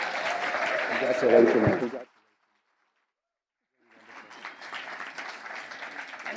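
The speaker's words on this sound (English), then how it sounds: "I think we should give one round of applause" Audience applause at a partnering launch livestream, a dense broadband clatter of many hands that breaks off abruptly after about two seconds, followed by a silent gap before a softer wash of clapping returns; a voice speaks briefly over the start.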